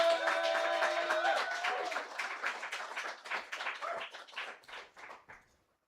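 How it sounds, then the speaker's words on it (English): A modest audience at a poetry reading claps for a young poet, a scatter of distinct claps over a fading background tone, thinning out and trailing off to silence. "Let's give him a round of applause."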